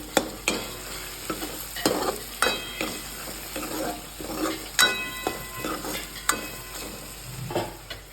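Onion and tomato for pav bhaji frying in a pan with Amul butter, heard close up as a soft sizzle under repeated scraping stirs and occasional clanks of a spoon against the pan.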